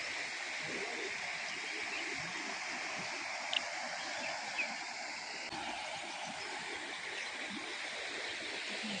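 The Ozaram river, a steady, broad wash of flowing water that runs evenly throughout at moderate level, with a couple of faint brief clicks.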